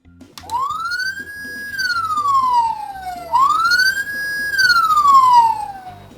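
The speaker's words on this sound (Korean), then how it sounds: "네, 사이렌 1번 그리고 또 한 번" An electronic siren from a Tobot C police car robot toy wails upward and slowly falls away, twice in a row, loud and close, with a faint background rattle.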